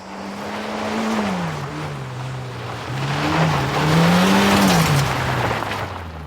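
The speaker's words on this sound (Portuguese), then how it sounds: "Está um carro à espera." A car's engine drones loudly and steadily at night in Turkey, its pitch gently rising and falling as it runs, with no voices.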